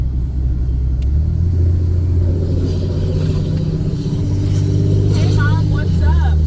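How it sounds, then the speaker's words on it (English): A truck drives along back roads, its low exhaust rumble steady and close throughout, with someone talking over it. "Listen to this truck going up these back roads here."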